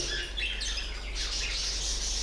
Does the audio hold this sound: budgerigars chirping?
yes